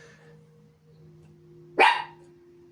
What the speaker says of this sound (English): Even Lily, the lion, is barking.